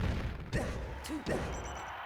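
Sheik's hit sound effects from Super Smash Bros. Melee, a few sharp, quick thwacks and smacks spaced closely across two seconds, each punchy and brief.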